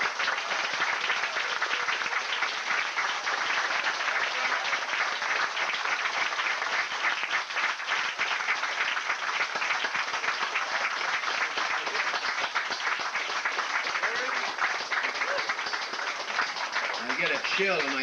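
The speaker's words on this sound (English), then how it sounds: "I ask you to join me in a round of applause for John Lilly." A crowd at Café Largo in Hollywood, 1991, applauds John Lilly with sustained, dense clapping that runs unbroken throughout at a steady level, while a voice briefly cuts in near the end.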